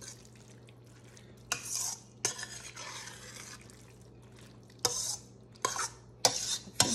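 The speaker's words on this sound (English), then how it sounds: "I'm going to stir this really, really well." A spoon stirring melted cheese in a pot, with scattered scraping and clinking strokes against the metal separated by quiet gaps, close up and fairly soft, over a faint steady hum.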